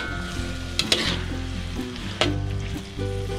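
Pork kidney stir-fries with ginger and sesame oil in a hot pan, with a steady sizzle and several sharp clinks and scrapes of a utensil stirring against the pan, and no voices.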